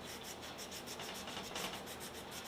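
Folded 400-grit sandpaper rubbing back and forth over a gun magazine part, a steady close-up hiss of abrasive scrubbing with even strokes and no voices.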